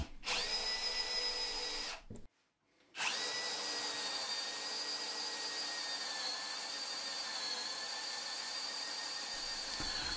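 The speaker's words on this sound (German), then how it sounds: "mit einem kleineren Forstner Bohrer vorbohren" A power drill with a Forstner bit whines steadily as it bores into wood, briefly stopping then starting again and running continuously at close range.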